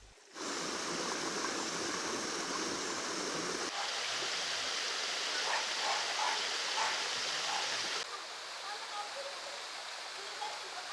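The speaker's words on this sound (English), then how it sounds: "The waterfall is not big, but still it has a charm" A small waterfall in a green forest near Krasnodar, a continuous close rushing splash of falling water at moderate level that stays steady throughout, with light rain falling nearby.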